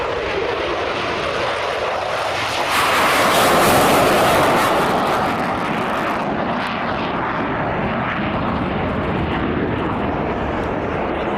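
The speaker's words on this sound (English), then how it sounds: "Demonstrate the raw power of the Typhoon, so get your cameras ready, the lights are on, the revs are up" A loud Eurofighter Typhoon fighter jet engine roars on takeoff at RAF Fairford, swelling to a peak, then receding into a sustained rumbling thrust, with no talking heard.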